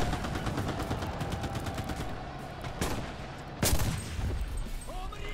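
Gunfire in the video game Enlisted, with a rapid rattle of shots through the first seconds, then two sharper, louder cracks standing out, dense and close.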